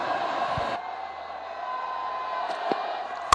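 A cricket crowd at a Lahore versus Peshawar Zalmi match roars with sustained, distant cheering that swells and fades, with a few sharp claps or thuds near the end.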